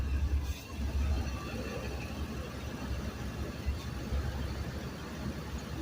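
A truck engine idles steadily after a truck wash, with water suspected in the fuel injectors; a low, continuous rumble holds close and even throughout, with no talk.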